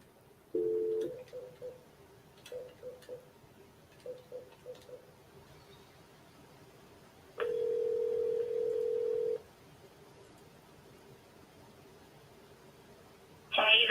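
A telephone ringback tone sounds on a forwarded call: two long steady tones about two seconds each, separated by quiet with faint clicks and brief blips, and a third tone starting at the very end.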